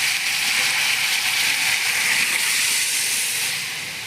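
Bamboo shoots hit a hot pan for a potato recipe and set off a loud, steady sizzle, a bright continuous hiss that holds for several seconds before easing slightly at the end.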